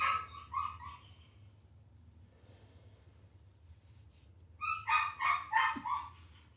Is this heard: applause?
no